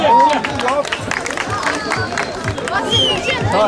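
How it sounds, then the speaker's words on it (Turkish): Applause and cheering for Burak Taşdemir at the Yunus Emre mosque in Duisburg, a lively crowd clapping and chattering close by with voices mixed in throughout. "Burak Taşdemir'e büyük alkış"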